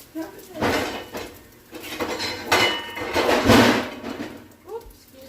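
Metal pots, pans and a lid clatter and clink in bursts in a home kitchen while rice cooks on the stove, the clanks loud and close with short pauses between.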